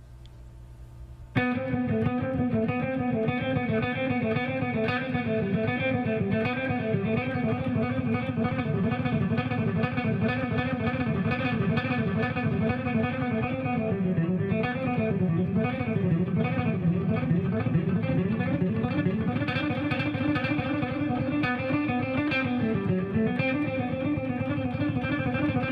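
An electric guitar with distortion plays a long, fast run mixing sixteenth-note and triplet patterns, continuous and loud after a brief quiet start, with no talking.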